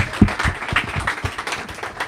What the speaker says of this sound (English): give a round of applause to Bex and everyone here at Books Are